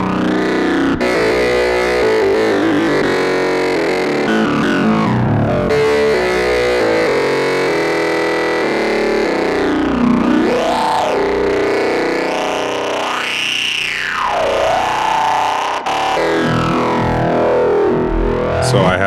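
A gritty, distorted Behringer Swords synthesizer plays sustained notes while its filter sweeps up and down, producing wah-like swooping tones; loud and continuous, no voices.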